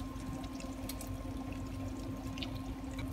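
Tomato juice pours into a simmering sweet-and-sour meat sauce, a soft, steady liquid trickle over a constant low kitchen hum with no talking.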